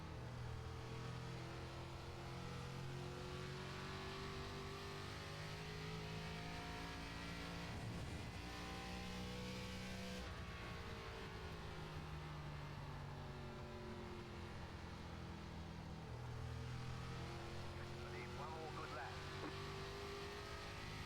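An ARCA stock car's engine drones continuously at a simulated 2008 Phoenix Raceway, rising and falling through gear shifts and corners, loud and steady for the whole stretch, with a voice talking over it.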